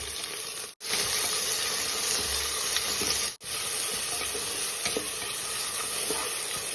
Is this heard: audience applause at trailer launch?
no